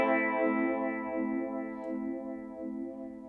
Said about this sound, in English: This is our first phaser though. And so we'll start with, what does a phaser do? Let me go ahead and click it on.